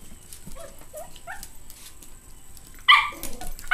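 A Yorkie dog playing with its puppies gives a few soft, high yips and whimpers, then lets out one sharper, louder bark near the end, heard close by against a quiet indoor background.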